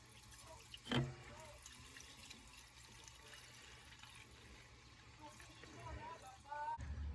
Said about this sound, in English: Go ahead and fill our gas up with our, making sure to spill a lot of it everywhere.